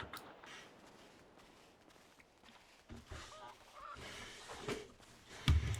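A chicken in a roleplay video game clucks and squawks faintly among scattered game sounds and footsteps, quiet and intermittent.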